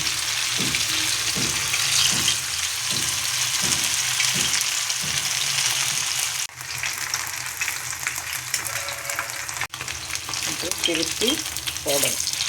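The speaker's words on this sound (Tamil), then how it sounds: "அந்த மீன் எடுத்து தோசைக்கல்லில் அப்படி வைக்கிறோம்" Spice-marinated fish fries on an oiled dosa griddle with a constant, loud, close sizzle, broken by a few soft taps and shifts as pieces are placed and moved.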